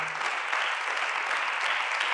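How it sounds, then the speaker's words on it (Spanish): A church congregation applauds steadily, a dense wash of clapping from many hands that carries on evenly for the whole short moment, with no voices standing out. "Le damos un aplauso al Señor"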